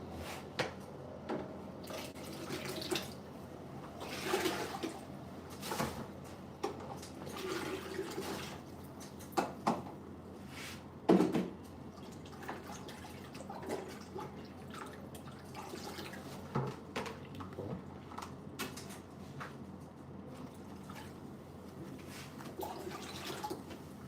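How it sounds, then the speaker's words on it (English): Water poured into a bucket while detoxing dreadlocks, heard as splashing and trickling with drips over about twenty-four seconds, with a few louder sloshes and low background noise. "Pour it directly in the bucket."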